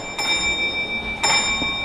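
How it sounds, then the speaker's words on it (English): A railway signal box block bell, a Lancashire & Yorkshire Railway type at a signalling school, sounds two clear ringing strokes about a second apart, each with a bright sustained ring, fairly close and alone. "signalman A acknowledges that by repeating 2 pause 1 beats on the bell"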